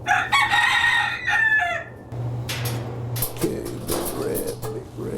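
Chickens in a sentinel flock kept for West Nile virus testing cluck and a rooster crows loudly at the start, followed by softer clucks and scattered bird calls over a steady low hum.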